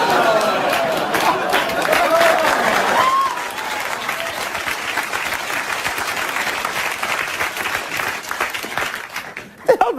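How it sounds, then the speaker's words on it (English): A studio audience at a late-night comedy show applauds a joke, a loud sustained roar of clapping from a large crowd that holds steady throughout with a voice over the first few seconds. "What the hell they applaud that for?"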